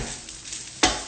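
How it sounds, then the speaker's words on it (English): Rice being stirred in a frying pan with eggs and tofu just added, a steady low sizzle broken near the end by one loud scraping stir. "At this point, add your eggs and your tofu in. Give her another little mix."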